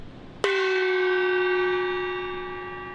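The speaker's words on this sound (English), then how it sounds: "Here's the duct tape gong first." A gong wrapped with duct tape is struck once, giving a sharp clang that settles into a sustained, slowly fading ring of steady tones, loud and alone.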